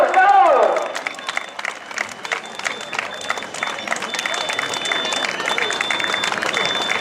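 Spectators applaud at a popular footrace in Meaño, continuous crowd clapping with some murmur and background babble, following a brief loud call at the start, steady through to the end.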